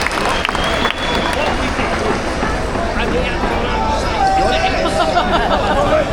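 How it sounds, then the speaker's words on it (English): A large outdoor rally crowd at a free speech event claps and cheers for a survivor, with dense broadband applause mixed with crowd chatter and babble, sustained and fairly loud throughout. "Let's give her a round of applause again,"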